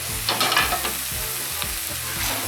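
Celery and parsnip pieces sizzle and fry steadily in a lidded pan, with a few stirring scrapes and clatters near the start, close and continuous and without any voices.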